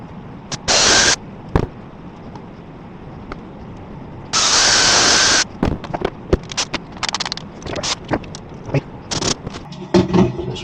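A power drill bores holes for a 12V fan in a boat's master cabin, with two loud, sustained bursts of about a second each, separated by pauses and followed by scattered clicks and handling knocks.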